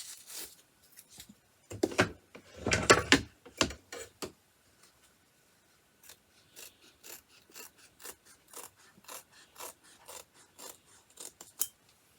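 Scissors trim the fabric of an embroidered zippered pouch. Close snipping and rustling comes in a dense cluster at first, then gives way to a steady run of quieter, evenly spaced small cuts, with no talking.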